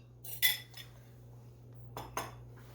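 A spoon scraping egg yolk from a bowl while making microwave butterscotch pudding, a few short clinking scrapes, faint and close, over a low steady hum.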